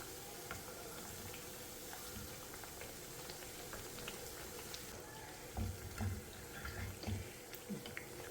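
Nippattu frying in oil over a low flame, giving a soft, steady bubbling hiss throughout with a few louder bursts of crackle near the end.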